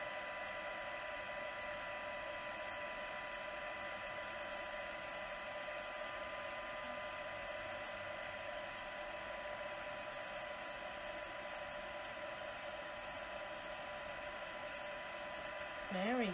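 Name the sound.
heat tool blowing to puff embossing paint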